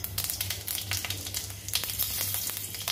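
Panch phoron spices crackle and sizzle in hot oil, a close, dense hiss broken by rapid popping bursts, with a low steady hum underneath.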